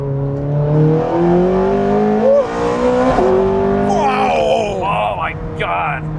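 A Ferrari 430 Scuderia race car at Ferrari Challenge, Brands Hatch, revving loudly through gear changes, its engine note climbing and dropping with sharp shift cracks, heard beneath excited talking throughout.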